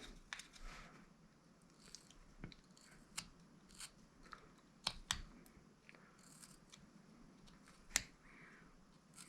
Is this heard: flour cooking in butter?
no